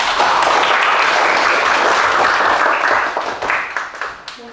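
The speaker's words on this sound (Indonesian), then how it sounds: "Kita tepuk tangan ya." Classroom of students applauding a classmate's answer, a loud, dense burst of clapping that holds steady and then thins out into a few last claps.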